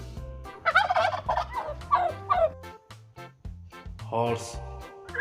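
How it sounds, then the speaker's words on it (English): A turkey gobbles in a series of rapid, rattling bursts, loud and close, with short pauses between calls over a low background hum. "turkey,"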